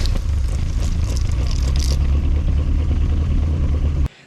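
The original 455 engine of a 1973 GMC motorhome runs loud and close with a deep, steady rumble and rough idle, then cuts off abruptly near the end.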